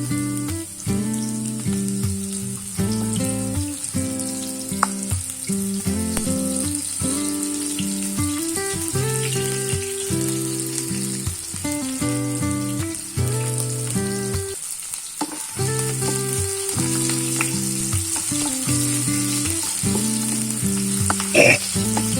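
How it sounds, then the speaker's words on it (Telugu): Onions sizzle and fry steadily in hot oil with cinnamon, cloves and cardamom for a cauliflower and soya chunk masala curry, a continuous close crackle with occasional stirring and no voices. "దీంట్లోనే ఆనియన్స్ వేస్తున్నాను"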